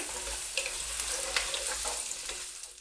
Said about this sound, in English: I'm going to put all of that in there and start frying that off.